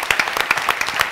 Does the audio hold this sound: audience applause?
yes